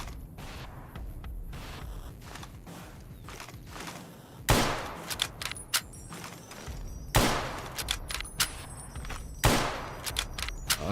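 Gunshots in a video game: three sharp, loud shots spaced a few seconds apart, each followed by a rattle of echoing fire, over a quieter backdrop of distant shooting.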